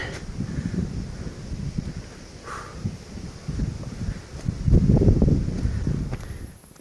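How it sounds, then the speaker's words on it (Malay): Wind blows through a stand of bamboo at night in a quiet, lonely spot, a steady low rushing and buffeting that swells and eases, strongest near the end, with no voices. "pokok bulu ni bergoyang disebabkan tiupan angin"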